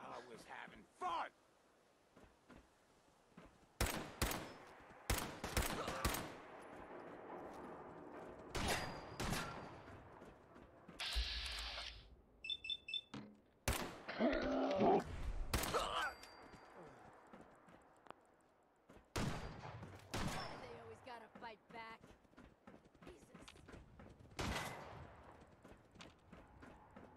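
Scattered gunshots in the Fallout 4 video game come in sharp isolated cracks and short bursts across a quiet stretch, with clattering footsteps and voices talking between them.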